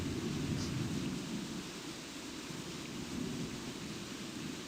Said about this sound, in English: I mean, it's rainy